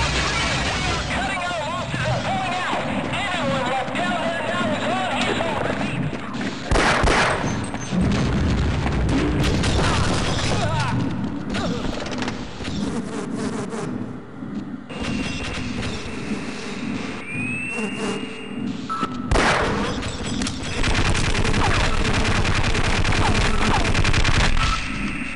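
Enemy gunfire in Half-Life rattles in loud bursts of rapid shots with heavy booms in between, mixed with game noise while someone talks over it.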